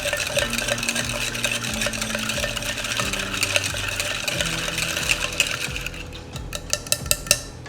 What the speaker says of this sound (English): And then we're going to stir this, mix all these components together to smooth out our taste of our old fashioned.